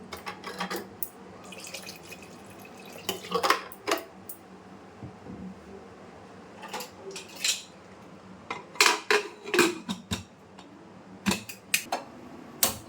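A pressure cooker holding chana dal for a vegetarian potato and pointed gourd curry is set down on a gas stove, giving a scattered series of close metallic clanks and knocks with quieter pauses between them and no talking.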